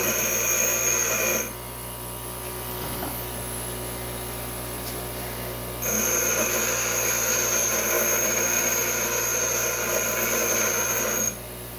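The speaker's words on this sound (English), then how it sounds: "Go over here to the grinder." A bench grinder working a rounded bolt in a shop, a steady high whine in two loud stretches broken by a quieter spin-down lull, with a faint background hum.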